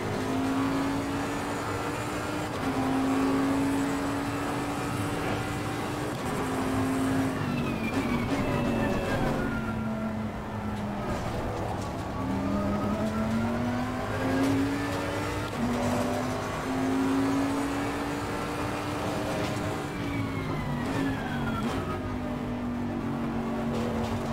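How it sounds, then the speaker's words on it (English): Race car engine in Assetto Corsa Competizione on a motion rig, continuous revving whine rising and falling through gear shifts over about twenty seconds, steady and moderately loud. "Roll it on the throttle."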